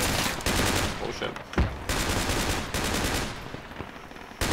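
Rapid bursts of machine gun fire crackle in dense, loud volleys with brief gaps between strings of shots, close and harsh, with faint voices underneath.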